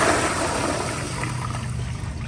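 A 1980s American Standard Afwall wall-hung toilet with a Sloan Regal flushometer and 1.6 diaphragm flushing, a loud steady rush of water swirling and draining for the whole stretch, close to the listener.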